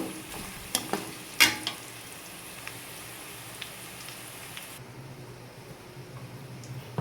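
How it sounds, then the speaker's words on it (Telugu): Ivy gourd (tindora) frying in a pan gives a steady, soft sizzle with a few sharp clicks and stirring scrapes near the start, then settles into an even, quieter hiss with no one talking. "ఇంకొంచెం వేగాలి. దొండకాయలు అనేవి మాడకుండా చూసుకోండి."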